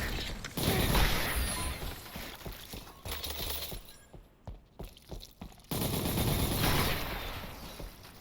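Plasma gun fire in the video game Selaco comes as a dense, loud barrage of bright, crackling shots and mechanical clatter, easing off midway into scattered sharp bursts before the heavy firing resumes.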